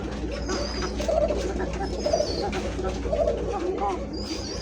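Pigeons coo in repeated low, rolling calls at a pigeon market stall, heard close and steady beneath ongoing conversation from people nearby.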